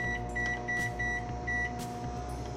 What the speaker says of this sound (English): Okay, and then you put it in the microwave.